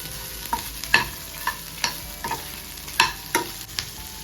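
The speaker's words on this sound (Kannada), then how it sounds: "ನೀವು ಇದನ್ನ ಹುರಿದಷ್ಟು ತುಂಬ ಚೆನ್ನಾಗಿ ಟೇಸ್ಟ್ ಬರುತ್ತೆ, ಅದರಿಂದ ಇದನ್ನ ತುಂಬ ಚೆನ್ನಾಗಿ ಡ್ರೈ ಮಾಡ್ಕೊಳ್ಳಿ" Ingredients for village-style chicken sambar dry-roasting in a pan, with a series of sharp scraping stirs at irregular intervals over a quiet, faint sizzle; no voices.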